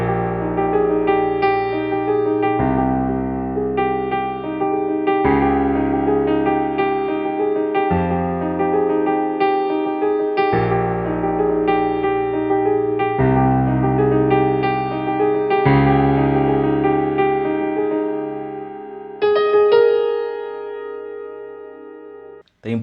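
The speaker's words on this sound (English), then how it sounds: "what you can do is play this arpeggiated line that I showed you over" A piano plays an arpeggiated line over a chord progression from a song, the broken chords rolling steadily and ringing at moderate volume before the phrase trails off.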